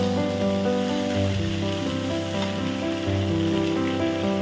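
Pointed gourd (potol) frying in oil for a vegetarian kalia, a steady loud sizzle with a tonal hum underneath and no pauses.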